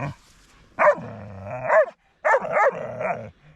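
Two loud, drawn-out dog barks, almost growling howls, each lasting about a second with a short silent gap between them, close by, outdoors on a snowy day.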